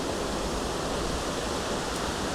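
Water pours steadily down the stone steps of a moss-covered dam, a loud, continuous broadband rush close by with no break and no voices.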